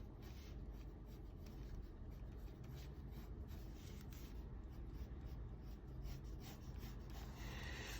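An eraser rubs back and forth on drawing paper close up, making quiet, continuous scratchy strokes in a soft, uneven rhythm.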